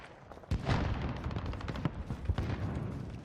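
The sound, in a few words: gunfire from the video game Modern Warfare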